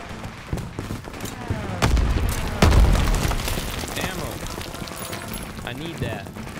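Suppressive gunfire and explosions on a World War II battlefield in Call of Duty: WWII, dense rifle and machine-gun shots with heavy booms at about two and three seconds, under shouting soldiers.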